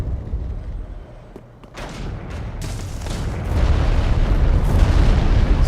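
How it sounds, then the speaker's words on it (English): Explosive arrows fired during a video game boss fight land as a series of booming blasts, with a rising rumble that grows louder and denser toward the end. "This guy's shooting arrows with like explosions on them."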